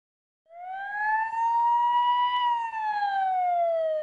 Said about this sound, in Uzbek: Sirena tovushini eshitgan kishi qalbiga hadik soluvchi mana bu sanitar avtomashinasi